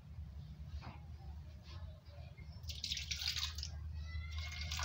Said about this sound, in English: Then I'll add water.